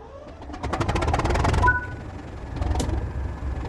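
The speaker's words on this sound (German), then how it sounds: "Betätigen Sie den Motorstartschalter bei Start, bis der Motor läuft." A Class 37 diesel locomotive in Train Sim World 3 cranks and starts, giving a rising mechanical chatter followed by a steady low engine rumble that holds for several seconds, with no talking.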